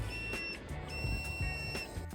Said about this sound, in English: that beeping is obviously just that piece of rusty metal